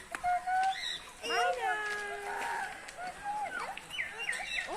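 A mynah at Guwahati zoo gives a string of whistles, chirps and squawky calls at close range, while a person talks softly in the background.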